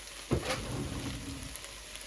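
Okra simmering in a pan on the stove gives a steady, faint sizzle and bubbling hiss, with one soft knock early on, low in level and uninterrupted.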